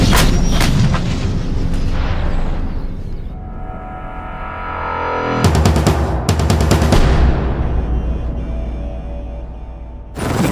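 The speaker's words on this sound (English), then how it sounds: "No infantry unit will ever do an attack without first having artillery fire placed onto the enemy." A British Army 105 mm light gun artillery piece firing: heavy booming blasts with long rumbling tails, one round near the start and another loud double crack midway, plus a final shot at the end.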